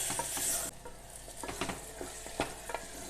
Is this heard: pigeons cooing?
no